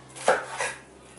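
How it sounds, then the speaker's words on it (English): A knife chopping vegetables on a board, two quick close thunks about a third of a second apart, then quiet. "I'm going to chop them down a little bit"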